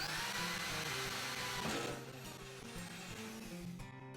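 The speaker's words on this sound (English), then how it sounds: "Drilling through a double thickness of purlins by hand simulates the lapping of Z-purlins found on site." A self-drilling fastener is driven by hand through a double thickness of steel Z-purlins, heard as a close, steady grinding drill whine that dips partway through, with no talk.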